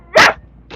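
A dog gives one sharp, loud bark close by, followed by a faint short huff a moment later.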